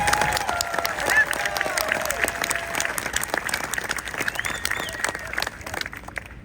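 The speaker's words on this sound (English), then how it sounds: "So please, a great round of applause for our leadership." Conference audience applauding a round for its leadership, steady dense clapping throughout with scattered cheers and voices mixed in, loud and close, tapering slightly at the end.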